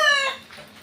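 A single short cluck from a chicken in a small backyard poultry pen, fairly close and clear, fading quickly into faint background hush.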